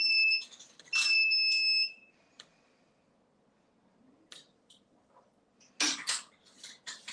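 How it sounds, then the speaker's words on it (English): A workout rest timer alarm sounds during an exercise class, sharp repeated electronic beeps in two bursts near the start, then quiet, with scattered clicks and a later rattling clatter. "ignore that when it goes off. You don't have to do anything. This is our rest timer."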